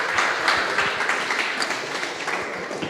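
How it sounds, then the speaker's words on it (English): An audience at a crypto pitch meetup applauds with a steady patter of many hands clapping, fairly loud and sustained, with a faint voice or two underneath. "another round of applause"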